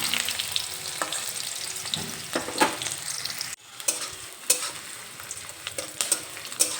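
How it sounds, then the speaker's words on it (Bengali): Chopped onion and dried chili frying in hot oil on a medium gas flame, a loud continuous sizzle broken by frequent scraping stirs of a spatula, with a brief dip partway through. "পেঁয়াজ দিয়ে একটু নেড়ে চেড়ে নেব। এখানে এই পেঁয়াজ হালকা ব্রাউন কালার করে ভেজে নেব।"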